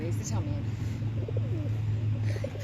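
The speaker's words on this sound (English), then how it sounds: "Pigeon's right near me in the racket." A pigeon coos softly nearby in short low calls against a steady background hum, with faint chirps mixed in.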